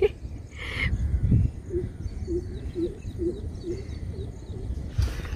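A greater coucal gives a series of deep, hollow, evenly spaced hoots, repeated about six times at moderate volume over background noise.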